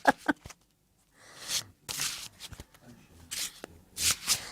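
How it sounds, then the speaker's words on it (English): Tarot cards are shuffled by hand in repeated soft, papery bursts, close and moderately loud, with pauses between them. "I'm practicing my shuffling while I'm talking to you all."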